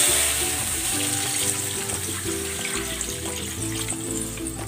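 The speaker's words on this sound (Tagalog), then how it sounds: "Maglalagay na ako dito ng tubig." Water pours into a pot of pork sinigang with liempo already seasoned with salt and pepper, a continuous close splashing and rushing that fades slightly, alone without speech.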